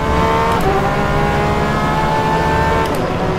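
A Porsche 911 RSR GTE race car at Portimao in the rFactor 2 sim screams at high revs, a loud, steady engine tone with brief dips as gears shift, no talking.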